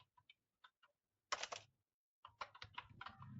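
Computer keyboard typing while entering data in Excel: scattered soft key taps, then quick clustered bursts of clicking close by in a quiet room.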